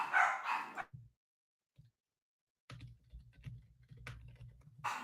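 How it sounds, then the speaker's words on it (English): Dogs barking indoors at home: a few separate low barks and yelps, fairly close, with quiet gaps between them and no talk over them. "Yeah, my dogs are going crazy."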